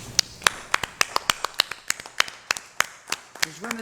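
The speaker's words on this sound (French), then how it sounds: "Moi, j'aimerais ça qu'on les applaudisse ce soir." A small council meeting audience claps sparsely, with distinct individual hand claps in an irregular rhythm, close and fairly quiet, before a voice begins at the end.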